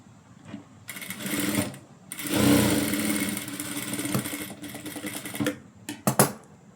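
A sewing machine stitches folded fabric pleats at a tailoring class, a rapid mechanical whirring in close bursts of a few seconds with short pauses between them.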